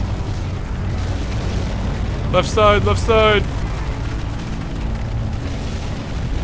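Fireworks go off in the zombie shooter game Left 4 Dead 2 as a dense, continuous wash of crackling bursts and rumbling booms, while someone briefly shouts over it.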